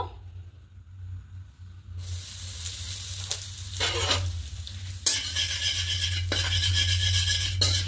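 Asafoetida dropped into hot white cooking oil in a pan while making radhaballavi dough filling, giving a steady close sizzle with brief stirring scrapes and bursts, no talking.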